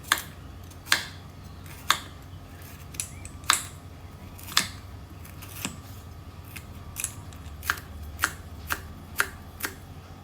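Galangal is sliced into rounds with a knife, a series of crisp, evenly spaced cuts close by against a quiet background with no talking.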